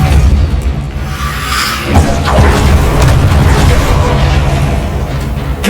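Capulso spell cast in the video game Hogwarts Legacy, a loud booming magical blast with a whooshing crash, steady and dense over a continuous game soundscape.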